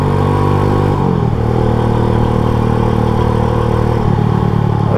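A classic chopper-style motorcycle, Jeep Style, runs with a steady, loud, close-up engine throb and harmonic rumble. The pitch shifts slightly near the middle and near the end, like small throttle changes, and no voices are heard.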